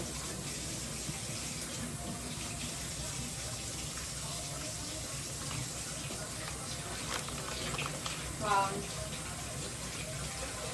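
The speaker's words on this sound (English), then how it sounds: "Do you want me to pour some pop?" Soda pop pours into a glass in a steady fizzy rush lasting several seconds, with a brief louder splash near the end and a voice faintly audible in the background.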